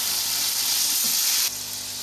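Ginger garlic paste frying in a pot as water is added, a loud steady hiss and sizzle that drops abruptly to a quieter sizzle partway through.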